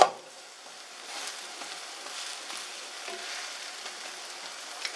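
An omelette sizzles softly in a pan, giving a steady, faint hiss with small crackles and light stirring scrapes throughout.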